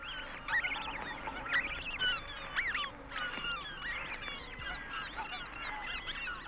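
Snow goose goslings call in a dense, continuous chorus of high, wavering peeps and honks, many birds overlapping at close range with a soft background hiss.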